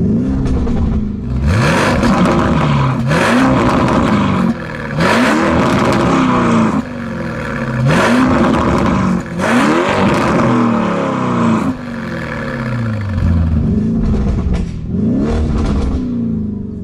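A loud Lamborghini Urus engine, Mansory Venatus version, revved repeatedly, pitch climbing and falling in a series of throaty bursts with short pauses, close and powerful.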